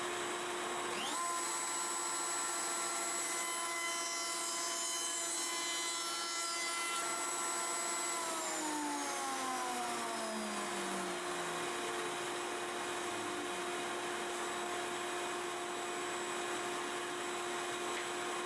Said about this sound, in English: So here we are taking the first pass with the 1/8 inch slot cutter.